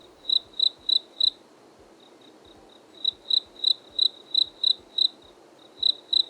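Cricket chirping in crisp, evenly spaced bursts, a group of four, a pause, then a longer run of rhythmic chirps, clear and close over quiet background.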